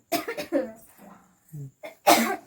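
A woman at home coughs in a short burst of several harsh coughs, followed by breathy, throaty sounds and another loud cough near the end, all close to the microphone.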